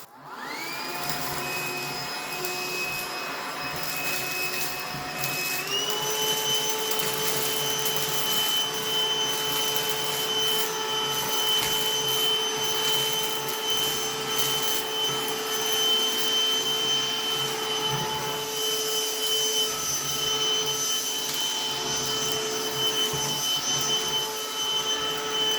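A Black+Decker cordless Dustbuster handheld vacuum with cyclonic action runs steadily at close range, a loud continuous motor whine that steps up in pitch after a few seconds when switched to a higher speed, then holds on alone.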